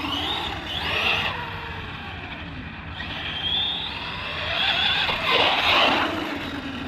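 An Arrma Big Rock RC monster truck with a drag brake issue, tested after calibration, drives and brakes, its electric motor whining up and down in sweeping pitches with tire scrubs, over a steady background rush.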